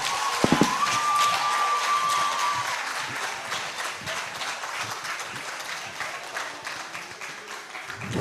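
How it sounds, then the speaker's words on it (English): At a university youth leadership debate quarter-final, the audience gives the University of Benin team loud, continuous applause. Dense clapping fills the room steadily throughout, with a brief tone sounding near the start. "That was a rousing applause for the University of Benin"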